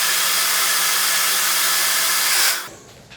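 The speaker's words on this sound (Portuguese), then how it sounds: "Vou posicionar o secador de cabelo na borrachinha." A hair dryer aimed at the rubber pad of an eyelash curler roars steadily and loudly up close for about two and a half seconds, then switches off, leaving near silence with no talking.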